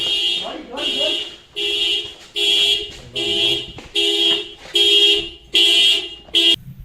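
A loud car alarm blaring in repeated pulsing tones, about eight bursts with brief gaps, close by.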